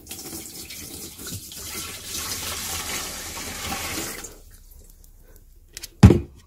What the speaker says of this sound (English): Right, I've got some water. Get this in the tank.